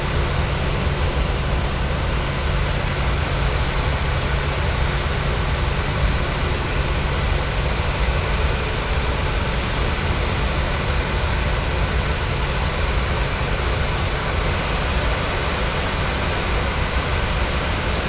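Steady broadband roar of a PMDG 737's jet engines spooling up for takeoff at Stockholm Arlanda in MS Flight Simulator, a constant, loud, unchanging rush with no talk.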